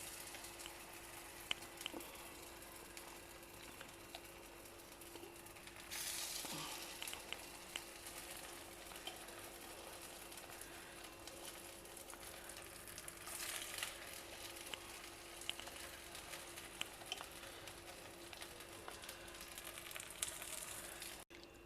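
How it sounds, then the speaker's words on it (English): Vegetable balls dipped in dosa batter fry in a covered paniyaram pan, giving a faint, steady sizzle throughout with occasional soft crackles and a brief louder burst partway through. "Cover it and cook it for a few minutes on one side till the underside gets brown"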